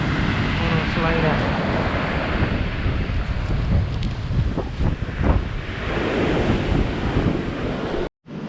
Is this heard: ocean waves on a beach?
yes